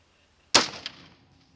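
A single rifle shot fired over chronographs cracks out sharply, followed by a quick echo and a short decaying tail, otherwise silent.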